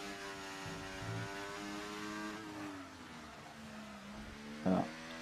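Race car engine in a GP2 racing video game, a steady high whine that drops in pitch as the car shifts into fourth gear for a sharp right-angle corner, followed by a brief louder burst near the end.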